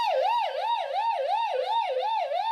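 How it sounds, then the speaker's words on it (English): A siren sound effect played on a podcast: a loud electronic wail that rises and falls in a steady, rapid cycle, continuous and alone with no talking. "Let's sound that siren one more time."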